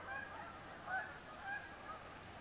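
A large flock of geese honking on a lake, a few scattered distant honks rising over steady outdoor background noise, faint and far off with no talking.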